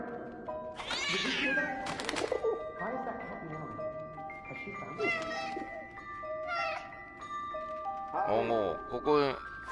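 A cat in a PS4 video game meows several times, mixed in with game music and tones, while a person talks over it.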